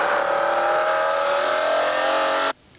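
A McLaren F1 road car with its bespoke BMW engine revs hard and steadily, a loud sustained engine note rising slightly in pitch before cutting off abruptly near the end.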